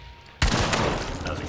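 A gunshot in the video game Hunt: Showdown bursts loud and close after a quiet lead-in, then rings and rumbles into a dense reverberant tail.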